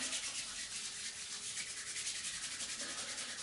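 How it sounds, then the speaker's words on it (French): Two palms rub briskly together close up, giving a dry, rhythmic swishing friction that pulses steadily for a few seconds with no talking. "Je frotte mes mains."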